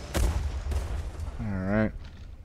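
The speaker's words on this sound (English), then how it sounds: "Getting shot by two ships" Warship guns fire in Refight: The Last Warship, with two ships shooting at the player: two sharp booming blasts close together, then a rising tonal wail and rumble beneath.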